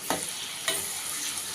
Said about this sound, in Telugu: ఇంకా అల్లం వెల్లుల్లి పేస్ట్ పచ్చి వాసన పోయేంత వరకు వేయించుకొని